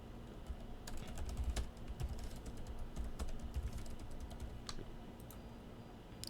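Computer keyboard being typed on while entering a login, a quiet, steady run of key clicks over a faint background hum.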